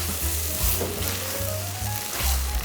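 Steady hissing sizzle of spicy stir-fried webfoot octopus sauce beginning to char in a hot pan, with a low rhythmic hum underneath and occasional scraping stirs.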